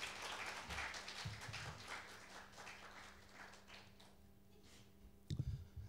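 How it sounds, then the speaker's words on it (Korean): An audience at a Korean public administration forum applauds to welcome a session moderator, a moderate round of clapping that gradually fades, followed near the end by a few louder close handling knocks. "큰 박수로 맞이해 주시길 바랍니다"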